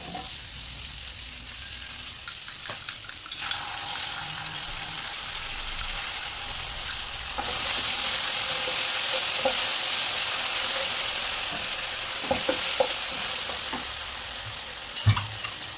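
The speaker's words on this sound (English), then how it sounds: "she's going to mix it and cook all of that together" Tofu rad na with mushroom sauce frying in a pan, continuous loud sizzling with scraping stirs and occasional clinks of the utensil, the sizzle swelling midway and staying strong.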